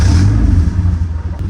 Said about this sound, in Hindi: हबशी ब्लैक को स्टार्ट करने का प्रयोग करते हैं